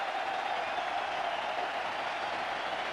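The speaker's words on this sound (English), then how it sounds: "The Karachi crowd go wild." A Karachi stadium crowd cheers a batsman's century during a 1996 World Cup one-day international between Pakistan and South Africa, a dense, continuous roar of cheering and applause that holds steady throughout.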